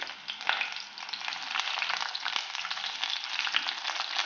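Onions frying in hot oil in a pot, a close, steady sizzle and crackle that runs unbroken from start to finish with no voices.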